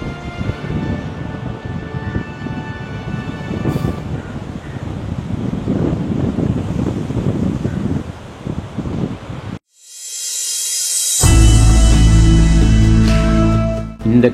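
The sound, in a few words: strong wind blowing at a seaside fort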